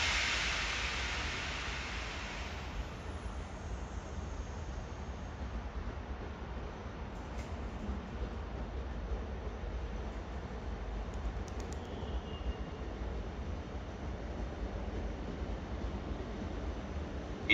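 A regional train from Venezia Santa Lucia to Bassano del Grappa arrives at a platform at Venezia Mestre station, a steady broadband rumble and hiss with a brief burst of brighter noise at the start, then constant rolling noise throughout.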